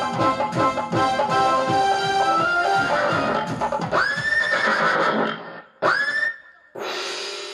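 A horse neighs loudly and close by, giving several rising whinnies with breathy snorts in between, preceded by rhythmic clopping and snuffling.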